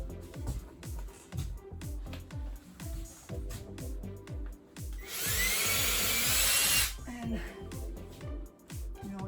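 A power drill bores holes overhead in a blacksmithing workshop, whining steadily for about two seconds amid a rhythmic backdrop of repeated knocking sounds.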